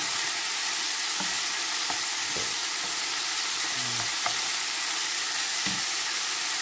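Vegetables fry in a hot pan with a steady, close sizzle, and a few soft stirring knocks break through the hiss.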